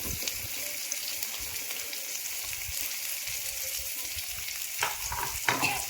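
Catla fish fries in oil with a steady, fairly quiet sizzle, broken near the end by a few short scrapes or clinks from a spatula.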